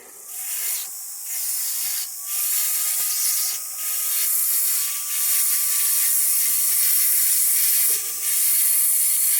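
A 1.6 mm rotary dental bit carves Deer Creek fire agate, a high, hissing grind that comes in repeated bursts with short pauses between passes.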